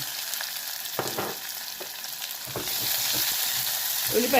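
Sliced onions fry in a pan of hot oil with cumin seeds for a bottle gourd and chana dal curry, a steady close sizzle with a few stirring scrapes that gets louder toward the end.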